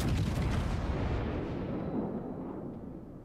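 Main guns of the Bismarck battleship in World of Warships fire a heavy, rumbling boom that rolls on and fades over a few seconds.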